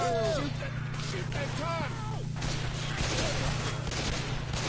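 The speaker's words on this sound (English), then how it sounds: "I was shooting at the roof." Gunfire in Left 4 Dead 2, with a gun fired at the ceiling, a dense steady rattle of shots over constant game noise and a low hum, with no clear pauses.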